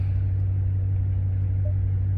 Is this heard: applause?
no